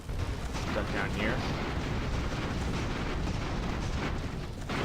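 Airship cannons firing in the video game Airships: Conquer the Skies, a dense, continuous barrage of booms and bursts with no clear gaps, loud and sustained throughout.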